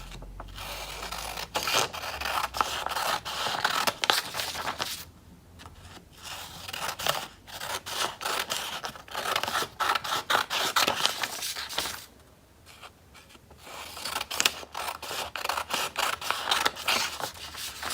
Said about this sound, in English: Now it's time to cut out the dotted lines.